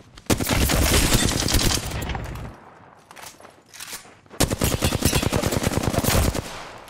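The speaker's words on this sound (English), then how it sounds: "I'm taking shots." Automatic weapons fire in the Apex Legends video game: two long, loud, rapid bursts separated by a quieter stretch of scattered shots and movement.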